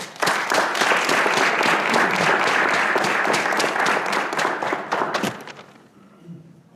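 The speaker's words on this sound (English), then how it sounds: "Please join me again in a round of applause" A room applauds at a school board meeting, dense steady clapping for about five seconds that stops abruptly, followed by quiet room noise.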